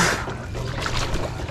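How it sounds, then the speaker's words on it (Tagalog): Strong river current rushing and splashing nearby, a dense continuous watery wash with small gurgles, heard alone. "Lakas talaga ng agos."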